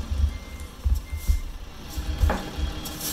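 Truck reversing beeps in American Truck Simulator, a regular series of short low tones pulsing under a quiet idling engine, close and evenly spaced.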